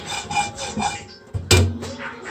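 A cast iron skillet scrubbed with salt, rhythmic gritty rubbing strokes up close, followed by a louder scrape and clunk near the end.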